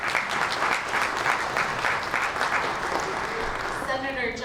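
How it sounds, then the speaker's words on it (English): A big round of applause fills a luncheon hall, dense and sustained from a large crowd, then fading near the end as a voice starts talking. "we will give you a big round of applause when I announce them all"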